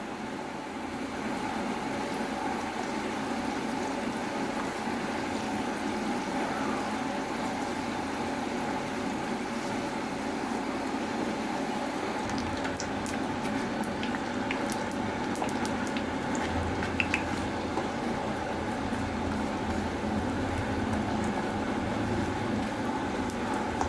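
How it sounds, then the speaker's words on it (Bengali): Bengali pitha rice cake frying in a pan over a very low flame, a steady soft sizzle running continuously throughout with a faint crackle or two partway through. "এরকমই আমি লাল লাল করে অপর পিঠটা ভেজে নিব।"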